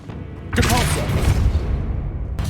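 A Depulso force-push spell cast in Hogwarts Legacy: after a moment of quiet, a loud, dense whooshing blast bursts in and rumbles on steadily, ending with a brief sharp flare.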